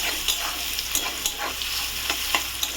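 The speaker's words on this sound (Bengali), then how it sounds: "তো পেঁয়াজ আর রসুন সর্ষের তেলের মধ্যে ভেজে নিচ্ছি ভালোভাবে।" Onion and garlic frying in mustard oil for a spicy lotiya fish curry, a steady close sizzle broken by regular stirring scrapes about every third of a second.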